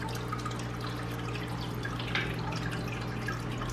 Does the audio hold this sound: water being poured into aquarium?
yes